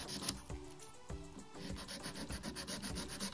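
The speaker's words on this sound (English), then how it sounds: "I'm just going in with my 100-100 grit file. And I'm going to first smooth out the edges." Acrylic nails are filed with a 100-grit nail file, making rapid, rhythmic scratchy strokes that are close and continuous, with brief pauses between passes.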